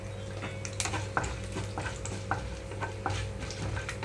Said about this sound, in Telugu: తాలింపు వేగేటప్పుడు ఎండుమిరపకాయలు కూడా వేసుకుంటున్నాను ఇందులోనే